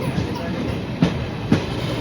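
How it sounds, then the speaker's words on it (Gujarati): An Intercity train halts at a crossing in Virpur, with a steady low rumble and two distinct wheel clunks on the rails about half a second apart. There is no clear speech. "આપણી ટ્રેન છે આપણી ઇન્ટરસિટી"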